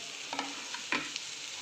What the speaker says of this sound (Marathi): आता ह्याच्यामध्ये आपण आता टोमॅटो ॲड करून घेऊ आणि